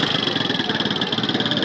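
Freedom 100cc motorcycle idling just after starting, a close, steady pulsing engine putter with an even rapid beat throughout.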